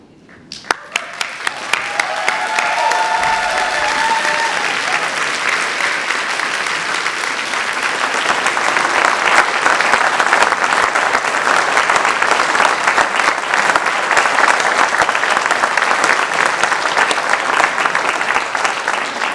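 Large audience applauding at a 2018 summer graduation ceremony, steady loud clapping that builds within the first two seconds and holds dense and even for nearly twenty seconds.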